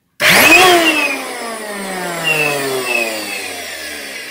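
A Bissell Power Groom vacuum cleaner switches on with an abrupt whine whose pitch settles as the motor spins up, then keeps running with a steady, loud electric drone.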